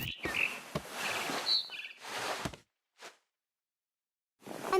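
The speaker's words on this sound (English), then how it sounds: "Then I heard chirping outside my window. It was a barn swallow going back to her nest." A barn swallow chirps outside a window in the video game What Remains of Edith Finch, giving bright, close, short bursts of twittering separated by brief silences.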